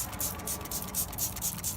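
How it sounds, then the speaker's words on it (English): Squirt bottle spraying aluminum wheel cleaner over a car wheel: a rapid series of soft, hissy bursts close by, several quick pumps in a row with no voices over them. "I'm gonna go ahead and take my squirt bottle, and I'm gonna spray it throughout my whole wheel right here."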